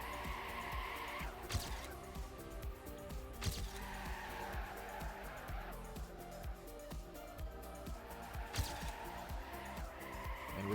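Race car engine roaring continuously in a racing video game during a World Team Cup match, with repeated tire squeals and skids recurring every couple of seconds at steady, fairly loud level.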